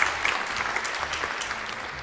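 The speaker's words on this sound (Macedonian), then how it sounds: "Аплауз, луѓе, аплауз!" Audience applause at a Macedonian show as points are announced, a dense steady wash of many hands clapping, moderately loud and continuous with no speech over it.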